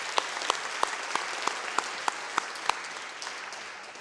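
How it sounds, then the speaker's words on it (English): An audience at a school athletic awards presentation applauds the teams, a steady wash of many hands clapping with a few sharper distinct claps standing out, fading slightly toward the end. "So round of applause for all of our teams."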